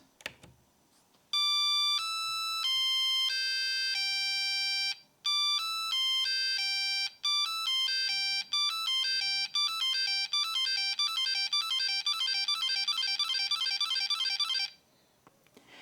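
A run of bright electronic beeping tones from a vintage NEC laptop computer, first slow and spaced, then faster and denser into rapid chirping sequences, loud and close with no talking.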